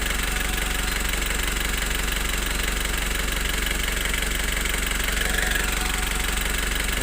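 A Foton Traveller van engine idles steadily, a constant low rumbling drone with a slight knocking texture, recorded close and unchanging throughout with no talk.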